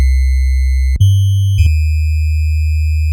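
A free software synth plays a sine wave imitating old 8-bit video game systems: loud, steady electronic tones that jump abruptly in pitch twice, each held note buzzing with a slightly impure, nostalgic edge.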